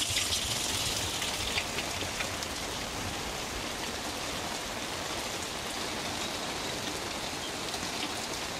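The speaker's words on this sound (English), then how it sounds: "it has been raining cats and dogs" Heavy rain pours down in a dense, constant patter, with droplets drumming on surfaces all around and no voices.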